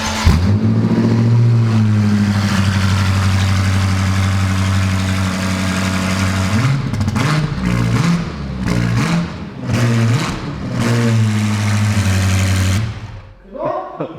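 A car fitted with an aftermarket exhaust starts and settles into a loud, droning idle, then gets several sharp revs in quick succession before shutting off, with people talking briefly under it.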